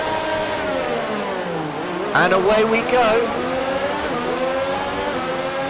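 An F1 race car in the F1 2019 video game revs hard and accelerates off the start of the Austrian Grand Prix, its whining engine note climbing through gears amid other cars, with someone talking over it.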